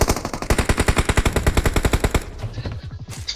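Rapid automatic gunfire from a shooter video game rattles off in a steady burst of about twenty loud shots, then stops and leaves quieter game sounds.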